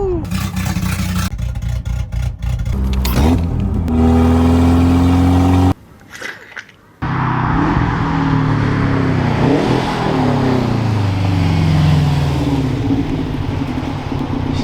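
A Subaru STI Type RA fitted with a Magnaflow catback exhaust revs repeatedly, loud and close, its engine note rising and falling in several sweeps, with a brief drop in level partway through before the revving resumes.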